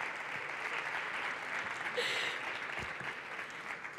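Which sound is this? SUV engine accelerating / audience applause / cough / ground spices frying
audience applause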